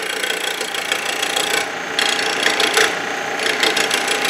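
A wooden offset scoop spins on a lathe while a tool cuts it, giving a rasping, scraping hiss over a motor hum, with the cuts surging and easing in short uneven passes.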